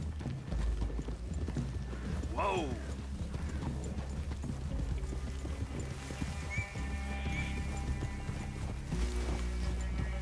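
Horse hooves clip-clop steadily through a clearing in the video game Red Dead, with a neigh at one point and low ambient rumble underneath. A man briefly calls out to the horse.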